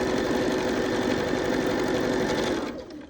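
Sewing machine running steadily while stitching quilt pieces for a star quilt block, a loud continuous whir that winds down near the end.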